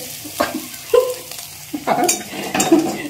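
Egg frying in a little oil for chowmein, sticking and scorching to the pan, with scraping stirs and spatula clatter in short bursts over a soft sizzle.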